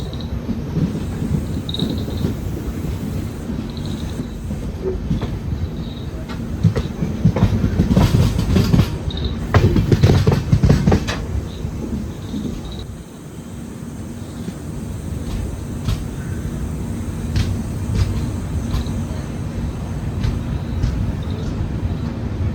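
Thiruvananthapuram Central Express rolling into Irinjalakuda station, a steady close rumble of wheels and carriages with a louder surge of clattering in the middle before it eases back to a low continuous roll.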